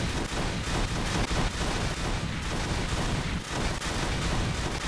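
Dense, continuous barrage of rapid explosive bangs and crackles, loud and relentless throughout, like a massive fireworks volley in the video game Far Cry 3.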